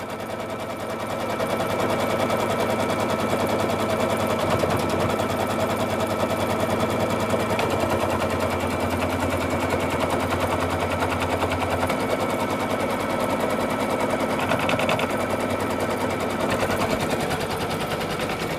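Embroidery machine stitching an applique onto a sweatshirt, a fast, steady mechanical rattle of needle strokes running continuously and close by, with no talking.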